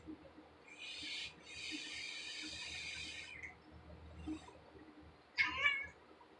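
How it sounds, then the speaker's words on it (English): A loud cat lets out long, drawn-out meows close by, first a two-part wail lasting a couple of seconds, then after a pause a shorter, sharper cry. "we're going to do the rest of the review with the world's loudest cat"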